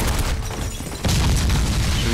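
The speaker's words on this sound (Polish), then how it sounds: "Oczywiście wybuch mnie rzuci na ziemię." A video-game explosion in The Godfather bursts in with a loud broadband boom about a second in, then holds as a dense rumbling roar to the end, after a noisy lead-in.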